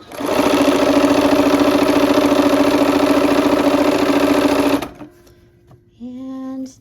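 Sewing machine with a 1/4 inch foot stitching quilt block seams, a loud steady mechanical whir running for about five seconds before stopping abruptly, then a short quiet pause and a brief tonal hum.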